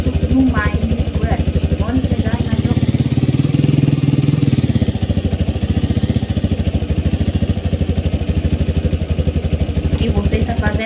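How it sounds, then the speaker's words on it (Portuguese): A motorcycle in a Minecraft mod video game putters with a rapid, rhythmic engine pulse, loud and continuous, swelling slightly mid-clip as it rides along, with occasional game sounds over it. "Eu tô andando de moto no Mine."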